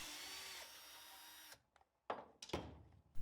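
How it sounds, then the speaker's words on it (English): Budget cordless drills, a Bosch among them, drive screws into wood. A faint steady motor whine runs first, then breaks into short separate bursts of drilling, with no voices. "Bosch is putting the screws in at a steady rate, but the Inco is speeding through this"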